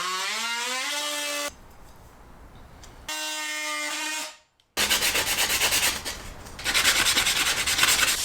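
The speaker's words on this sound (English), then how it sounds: "I'll just sand it" Trimmed wood being sanded during a rental kitchen makeover: loud, steady abrasive rubbing in long bursts, broken by brief pauses and a short near-silent gap, with a harsh whirring tone at times.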